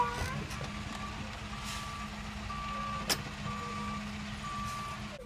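A truck reverses outdoors, its backup alarm sounding as steady repeated beeps over a low engine rumble, with a brief sharp click midway and no talk.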